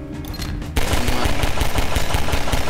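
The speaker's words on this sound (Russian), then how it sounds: "Фьюжн бомба." A fusion bomb detonating in Garry's Mod, a loud sustained roaring blast with rapid crackling bursts that erupts suddenly and keeps rumbling.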